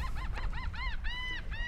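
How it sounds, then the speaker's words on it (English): A goose-like bird honks loudly and close, a rapid series of about six nasal, rising-and-falling calls in quick succession, alone without talk. "noisy bird."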